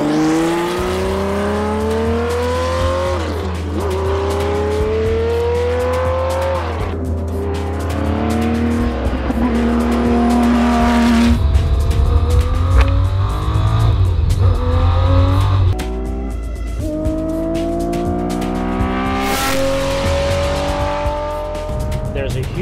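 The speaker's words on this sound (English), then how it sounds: "these cars, the throttle are made just zero and full" A Porsche 917 race car engine, throttle worked only between closed and wide open, roars loudly and continuously with repeated sharp revs rising and falling, close up and dominating throughout.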